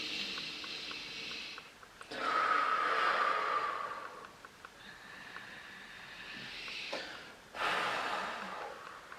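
A person breathes in and blows out through cupped hands shaped into a triangle above the head, soft airy breaths and exhales in separate bursts, close and quiet.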